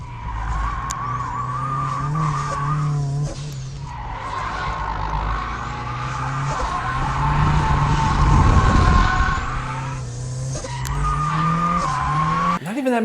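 A turbocharged Mazda Miata laps the Lime Rock Park circuit, its engine droning loudly through gear changes while tires squeal and skid through corners, the sound close and sustained.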